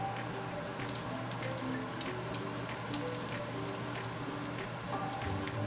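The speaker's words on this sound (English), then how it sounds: "this is what it looks like when you pan fry the edge of another side of that bun" Pan-fried pork buns, sheng jian bao, sizzle steadily in hot oil in a pan, giving a continuous close crackling hiss with fine spattering pops and no talking.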